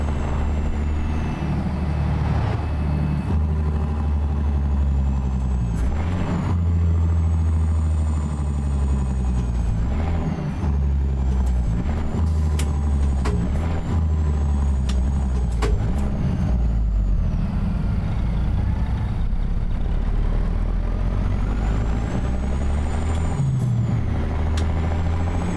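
A ZeeMod Caterpillar 3406B truck engine in American Truck Simulator drones loud and steady, its pitch sweeping up and down through gear changes, with sharp air-brake hisses and clicks breaking in now and then.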